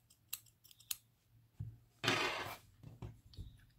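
Scissors snip through crochet yarn in a few quick, close cuts, with one longer, louder slicing stroke in the middle and small clicks of the blades around it.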